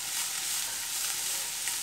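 Sliced onions sizzling in hot oil in a pan while cooking a Kerala bitter gourd tamarind curry, a steady close hiss of frying with no talking.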